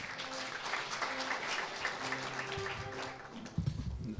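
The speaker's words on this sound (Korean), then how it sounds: "큰 박수로 환영해 주십시오" Steady applause from an audience at an award ceremony fills the room, continuous and moderately loud, with a brief louder bump near the end.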